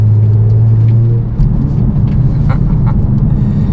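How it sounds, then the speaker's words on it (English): Exhaust note of a 2016 Mercedes-Benz C450 AMG, loud and close, with a steady engine drone that breaks at about 1.4 seconds into a run of crackles and pops that continue to the end. "those crackles and pops would never, ever, ever get old"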